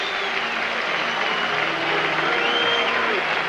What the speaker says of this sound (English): listen to the ovation for Tommy John